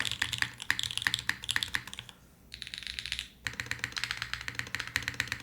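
Typing on a Kohaku mechanical keyboard without keycaps, quick clacky keystrokes up close, a short pause, then a brisk run of key presses, no talking.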